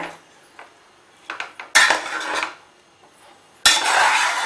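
A ladle gently stirring cooked mushroom biryani rice in a pot: quiet light clinks first, then two separate bursts of close, rough scraping and shuffling of rice against the pot.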